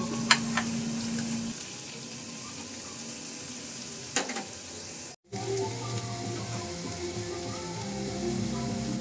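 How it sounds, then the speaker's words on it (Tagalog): Garlic sautés in hot oil in a kawali with a dense, steady sizzle that runs almost unbroken, cut off briefly midway, with a few faint clicks on top. "Sa kawali naman, maglagay ako ng mantika at igisa ko na yung bawang"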